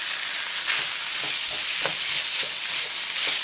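Chicken stir-fry with rice and vegetables hisses steadily in a hot pan while being stirred, with soft irregular scrapes and clicks from the utensil over a constant bright sizzle.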